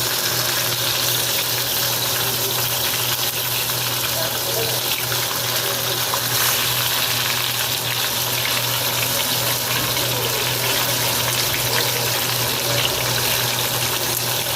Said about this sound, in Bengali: এখন দেখো আমি মাছগুলোকে ভাজা বসিয়েছি